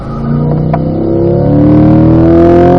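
A car on a racetrack accelerates out of a corner, its loud engine note climbing steadily in pitch as it pulls away, close and continuous.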